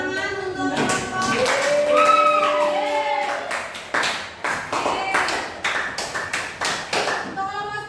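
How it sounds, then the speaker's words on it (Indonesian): A classroom of students applauds a presenting group, with dense clapping that thins out into scattered individual claps. Voices talk over the start of the applause. "kasih tepuk tangan untuk kelompok"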